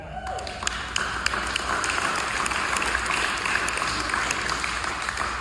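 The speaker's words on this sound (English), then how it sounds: "Does it feel weird clapping for yourself?" Congregation applauding at a church service, dense continuous clapping with a few sharper claps standing out near the start.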